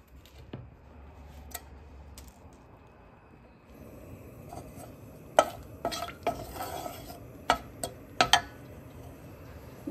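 Dried red chillies tossed into hot oil already crackling with panch phoron for a bottle gourd skin bhaji, with a soft sizzle and a run of sharp clinks and stirring taps from the pan growing busier toward the end.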